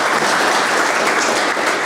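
Audience applause for two mayors at a public safety breakfast in the Merrimack Valley: dense, steady clapping from a full room, loud and continuous throughout with no voices on top.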